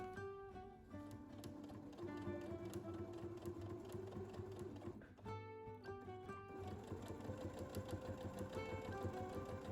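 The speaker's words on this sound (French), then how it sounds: "on va réaliser une couture droite toute simple au niveau du pli du biais qu'on a épinglé juste là sur toute la longueur" A domestic sewing machine runs a straight seam along the fold of pinned bias binding, humming and rattling steadily at close range with a brief pause partway through.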